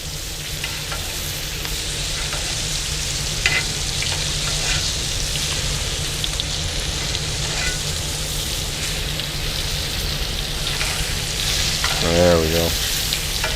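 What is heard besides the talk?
steak frying in hot oil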